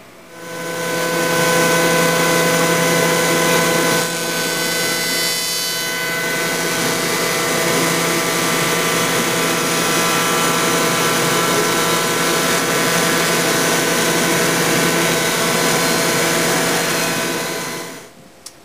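A power tool cuts a mating joint profile into plywood for a drawer in a veneered desk build, a loud, steady, high whine holding for nearly the whole stretch with no talk.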